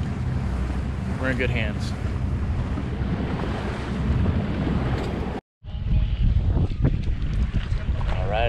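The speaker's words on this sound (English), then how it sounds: "Super windy though, so might be a little bit choppy" Strong wind buffeting the microphone over choppy water on a boat ride off Florida, a constant roaring hiss with brief gusts, while people talk over it.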